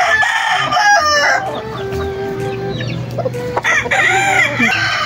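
A pure white Kelso rooster crows loudly and close by, a drawn-out call followed by short clucks and a second burst of crowing.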